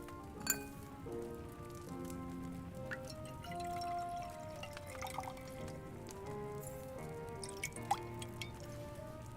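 Liquid poured into an alchemy cauldron while brewing a marigold potion in Kingdom Come: Deliverance II, soft dripping and trickling set under steady game music with a few brighter splashes.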